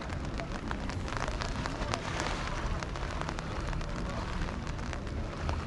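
Steady rain falling across a seaside promenade in Marmaris, Turkey, a dense even hiss with scattered drop taps, continuous and fairly close throughout.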